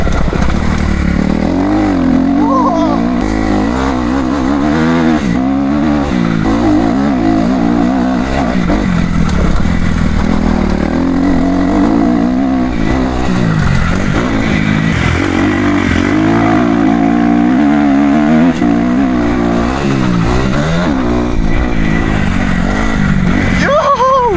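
Dirt bike ridden on a motocross track, its engine revving and surging continuously up close throughout, with bumps and rattles along the way.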